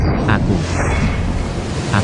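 Surf washes onto a shallow beach with steady rushing noise and heavy wind buffeting the microphone, loud and continuous.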